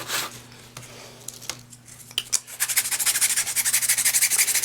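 A metal file works the edge of a prop boot rocket piece, first with scattered scrapes, then settling into a quick, regular rhythm of rasping strokes, close and alone.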